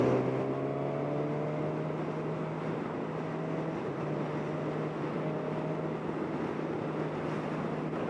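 2020 Suzuki Katana motorcycle engine under way, a loud continuous drone with a steady low hum and rising tones as it winds up, heard close from the rider's position with wind noise and no talking.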